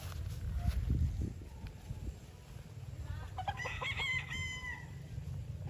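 Sweater-breed gamefowl roosters on a gamefarm: a low rumble of background noise, then a rooster crows from a moderate distance, a clear rising-and-falling call, with faint clucks around it.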